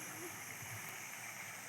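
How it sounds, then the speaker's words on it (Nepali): Tipu Khola, a mountain stream, rushes in a steady broadband wash of flowing water close by, with a faint voice briefly audible over it. "यो रहेछ टिपु खोला"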